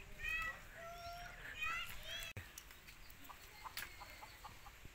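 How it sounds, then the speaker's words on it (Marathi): A rooster in a yard, likely chasing or charging at a stranger, gives short clucks and calls close by. Other sounds and voices are mixed in, with a brief cutout midway. "बघा हे कोंबडा आलं बघा"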